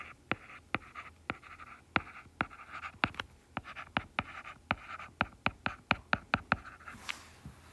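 Chalk or marker strokes on a board during a geometry lesson on proofs: a steady series of sharp, distinct taps and scratches in an irregular rhythm, close and clear, with no talking.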